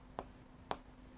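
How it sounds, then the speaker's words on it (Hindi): Pen or chalk writing out a maths solution, two short sharp scratchy strokes about half a second apart, faint and close, over a quiet background hum. "हल में हम लिखेंगे"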